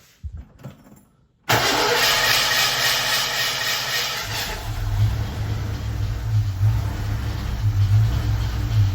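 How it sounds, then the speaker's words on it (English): A Ford Mustang engine cranks briefly, then catches and roars to life, settling into a loud, steady close-up idle with a deep rumble that shifts slightly as it stabilizes. "All right, let's fire it up and see what it does."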